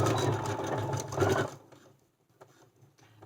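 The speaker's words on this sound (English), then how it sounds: "Then I'm just going to backstitch here." A sewing machine stitches thin fabric for a face mask in a fast, close mechanical rattle for about a second and a half, then stops, leaving quiet handling noises.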